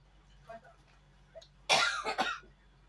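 A sudden burst of close, harsh coughing, two or three quick hacks after a few quiet murmurs.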